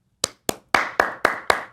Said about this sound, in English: I just want to give a little applause here and say bravo